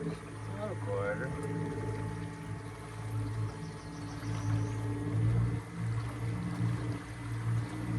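An electric boat motor runs at full throttle, giving a steady low hum and whine with water noise underneath, fairly faint and continuous throughout.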